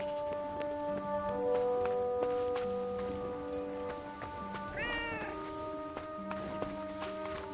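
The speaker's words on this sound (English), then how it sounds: "I have a strange feeling that cat wants us to follow it." A cat meows in the video game Forspoken, one clear rising meow near the middle over steady musical tones and light game ambience.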